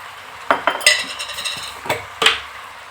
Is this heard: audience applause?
no